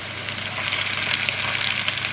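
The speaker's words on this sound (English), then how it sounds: "they are going into the hot goose fat. They're already sizzling away." Potatoes sizzle steadily in hot goose fat for a Sunday roast, a close, continuous crackling fry with dense bright spatter and no voices.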